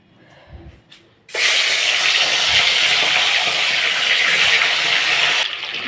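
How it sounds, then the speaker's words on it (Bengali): Fish coated in salt and turmeric frying in hot oil in a wok, a loud, steady sizzle that bursts in after a quiet moment and runs continuously close by. "মাছগুলো ভাজা হচ্ছে।"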